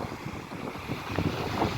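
Black Sea waves washing onto a beach in Odesa, a soft ongoing rush of surf with a few louder breaking swells, mixed with wind buffeting the microphone.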